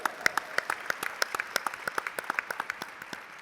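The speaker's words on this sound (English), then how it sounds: "let's give them another round of applause" Sparse, uneven clapping from a small audience at a political keynote, individual sharp claps spaced out and gradually thinning, moderately close.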